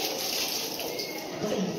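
Water runs from a tap in a school washroom, a steady hissing splash at close range lasting a couple of seconds, with a brief voice faintly near the end.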